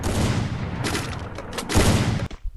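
A few loud, close gunshots in Free Fire, heavy booming blasts spread through a short burst of firing that cuts off abruptly at the end.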